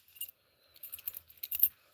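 A set of keys for lock picks and locks jangles faintly in several short metallic bursts, close up in an otherwise quiet room, with no speech.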